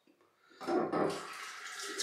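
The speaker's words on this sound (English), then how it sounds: "To make sure I keep rinsing it with no lava channels. And it's rinsing great." Water running from a tap over a Muhle Rocca safety razor, a short close splashing rinse rising from quiet into a steady gurgling flow.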